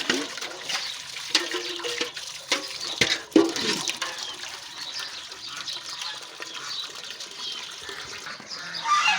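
Domestic ducks on a home farm quack and honk excitedly in a burst of close, overlapping calls during the first few seconds, then quieter chatter and scattered calls over a steady background hiss.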